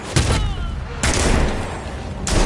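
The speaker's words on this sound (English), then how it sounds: "Enjoying the fireworks." Fireworks exploding in a Batman video game, three sharp booming blasts roughly a second apart, each followed by crackling rumble, loud and close over a dense noisy background.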